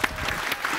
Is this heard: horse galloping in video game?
no